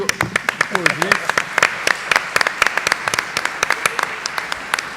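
Scattered, uneven hand claps from a modest audience at an arbitration panel session, sharp individual claps rather than a dense roar, continuing steadily for several seconds with a brief voice heard early on.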